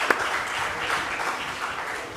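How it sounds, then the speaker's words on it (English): Applause from an audience at a university convocation press briefing: a steady, dense clapping wash holds for about two seconds, close and moderately loud, with one sharp clap near the start. "Please, let us applaud them once again."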